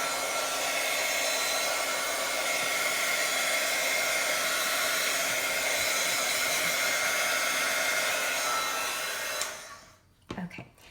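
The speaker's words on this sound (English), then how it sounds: "you can use the heat gun. I'll hit mine real quick." Heat gun blowing steadily over wet paint on a craft journal page, a constant loud whooshing roar for about nine seconds that cuts off abruptly, followed by a few faint handling clicks.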